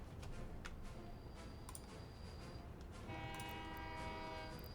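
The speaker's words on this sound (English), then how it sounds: "Like a train." A train moves along tracks in the Soviet-era city-building game Workers & Resources: Soviet Republic, a faint, distant rumble with clicking, then sustained horn-like tones near the end.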